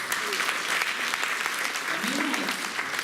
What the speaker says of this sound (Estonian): Teeme aplausi neile.